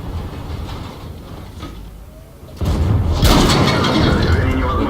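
Two heavy tank cannon blasts in World of Tanks, with a shell striking a tank's tracks, as a T-54 battles a Waffenträger: a sudden loud boom, then a second, stronger crash over rumbling, clattering engine and track noise.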